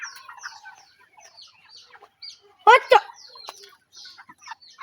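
A chicken clucking and squawking nearby, short irregular bursts with one loud sharp cry partway through, while a person speaks briefly in the background.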